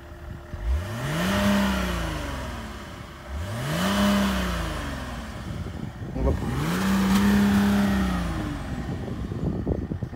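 Three sharp revs from a BMW 330cd diesel engine, stage 1 tuned, each climbing quickly and then falling back, heard loud and close at a stationary car with brief pauses between them.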